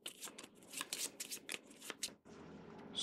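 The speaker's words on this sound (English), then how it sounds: "Then you will take your 10 card deck, shuffle it up, and you're going to draw 5 cards." A 10-card deck of Codex game cards shuffled by hand, producing a run of crisp riffling and snapping bursts up close, ending in a steadier papery rustle.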